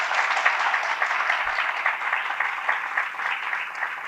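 Applause from an audience of children, steady dense clapping throughout, fairly close and even in level, with no talk over it.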